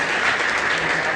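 A crowd at a school competition event in a village assembly claps loudly and steadily, a dense, continuous wash of applause throughout.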